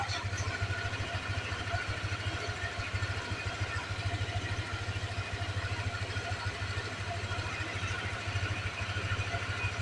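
A 160cc motorcycle engine with an MTK block and new injector idles smoothly and steadily, a close, even low putter that runs without a break.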